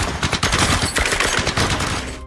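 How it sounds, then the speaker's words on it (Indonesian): Rapid bursts of gunfire from several soldiers' weapons in a film, loud sharp cracks overlapping in a dense volley. "Para tentara itu pun langsung saja menembakkan senjatanya."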